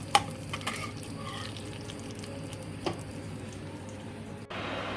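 Steady crackling sizzle of food frying in hot oil, with a few sharp clinks of a utensil against the pan.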